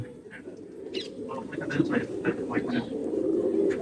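Madrasi pigeons in a loft at Ichhapur, Kolkata, including a black-mottled pair, make soft, low coos and rustles close by under someone speaking.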